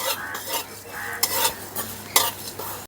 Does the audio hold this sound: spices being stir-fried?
yes